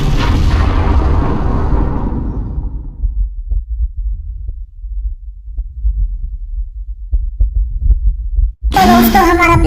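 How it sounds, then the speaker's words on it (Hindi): Fast, deep heartbeat thuds pulse low and heavy after a plane crash in Ghost Recon Breakpoint, following a fading rumble, before a sudden loud burst cuts in at the end. "मेरी धड़कनें हार्ट बीट बहुत तेज चल रही है"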